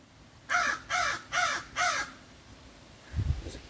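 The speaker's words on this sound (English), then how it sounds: "Crow over there that thinks it's funny." A crow caws four times outdoors in a steady, evenly spaced series, clear and moderately distant, followed by a low thump near the end.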